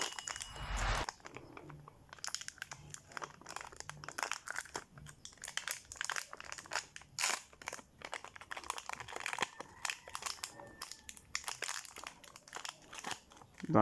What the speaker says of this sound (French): On a un micro que je vais déballer.